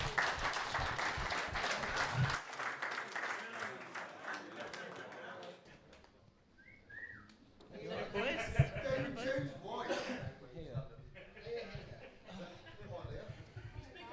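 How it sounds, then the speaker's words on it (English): Live audience at a plumbers' social podcast recording claps and cheers loudly for a few seconds, then the clapping thins out as voices, chuckles and chatter take over, with scattered claps continuing under the talk. "if you give them a round of applause to come down"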